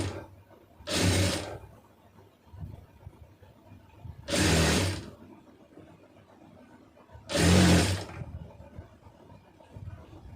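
A sewing machine stitches blouse fabric pieces in three short, separate bursts of close mechanical whirring, with quiet pauses between them.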